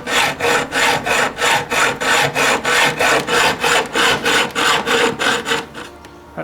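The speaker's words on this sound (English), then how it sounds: "Use a hacksaw to cut down about 5 millimeters." Hacksaw cutting into a wooden beehive division board, a rapid, even rasping rhythm of about sixteen close, loud back-and-forth strokes that stops near the end.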